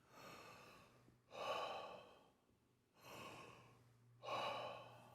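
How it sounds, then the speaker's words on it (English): Deep breaths drawn in and out through a wide-open mouth during a bellows-style breathwork meditation, four slow airy rushes alternating in a steady rhythm, close and fairly quiet with no talk. "Start to breathe in deeply through the mouth."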